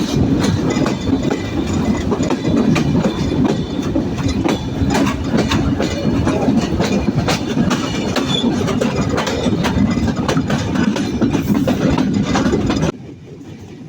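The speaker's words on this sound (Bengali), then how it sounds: "আমাদের ট্রেন কিন্তু সুবিশাল এক কার্ভ নিয়ে পার হয়ে যাচ্ছে" The Jahanabad Express train rumbles continuously along the rails through a large curve, its wheels clattering in a fast irregular rhythm, loud and close, before cutting off near the end.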